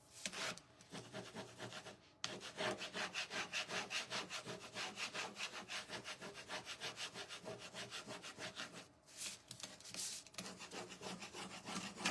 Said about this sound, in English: so we're just doing a little scraping